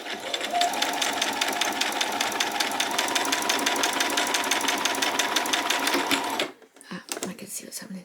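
A sewing machine stitches apron fabric, starting at a pink piece, in a loud, steady, rapid run of needle strokes for about six seconds. It then stops abruptly, and a voice briefly speaks in the quieter moments after.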